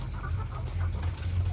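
Chickens in battery cages on a poultry farm cluck steadily as a dense, continuous flock murmur over a low hum, with no talk.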